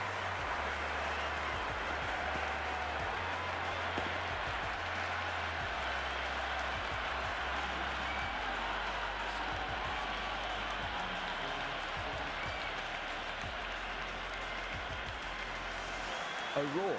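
Crowd applause from a Cricket 26 video game match, a faint, steady wash of clapping and crowd noise running throughout beneath a commentator's voice.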